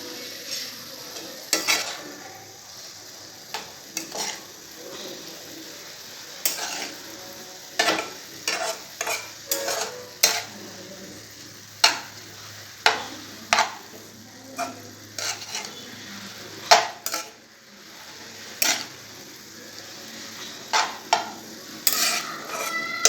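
A dill and vegetable bhaji sizzles in a pan in a home kitchen while a metal spoon stirs it, clinking against the pan in repeated sharp scrapes and taps over steady frying.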